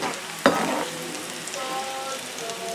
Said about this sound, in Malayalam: അപ്പോൾ നമ്മൾ ഇട്ട് കൊടുത്തുള്ള വഴുതനങ്ങ കരിഞ്ഞു പോകാണ്ടിരിക്കാനൊക്കെയൊന്ന് നമുക്ക് ഇളക്കി കൊടുക്കണം.